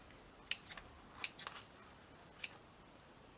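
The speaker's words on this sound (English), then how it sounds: "Cut these bits off." Scissors snipping small bits off paper in a card-making craft, a few sharp, quiet clicks spaced irregularly over a few seconds, close and alone.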